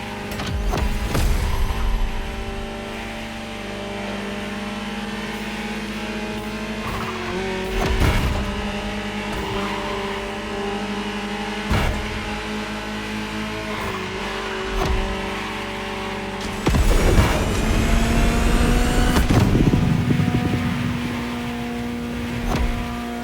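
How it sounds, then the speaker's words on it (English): A Ferrari supercar engine in the racing game The Crew Motorfest drones steadily at high revs, with repeated gear-shift surges and brief bursts of tire squeal, loud and continuous throughout. "Just listen to the car you're driving."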